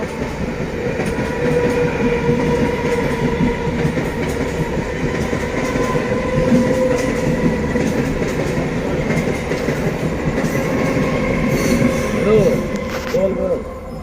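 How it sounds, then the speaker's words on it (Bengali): A train rumbles past a closed railway level crossing at night, a continuous loud rolling clatter of wheels with faint squeals, steady from start to finish. "ট্রেন আসছে বলে এখানে রেল গেটটা বন্ধ"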